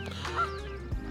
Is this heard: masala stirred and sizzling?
no